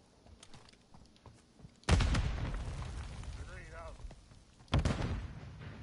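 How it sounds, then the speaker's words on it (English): A grenade goes off in the Call of Duty Modern Warfare 3 video game as a loud, sudden boom with a rumbling tail, and a second blast follows a few seconds later, with a player's voice briefly over the noise. "Grenade out!"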